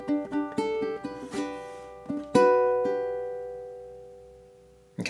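Fingerpicked guitar étude opening bar: a string of plucked notes over a bass line, then a strummed chord near 2.3 s left ringing and fading, and a fresh pluck right at the end. Close, fairly quiet, no voices.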